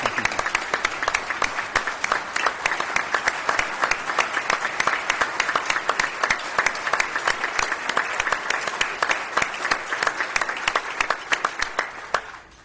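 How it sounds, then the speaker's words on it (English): Sustained audience applause at a mayoral candidate forum in Germantown, honouring Ms. Goldsworthy for her service; dense, steady clapping fills the room for about twelve seconds before trailing off at the end. "give Ms. Goldsworthy a round of applause for her service"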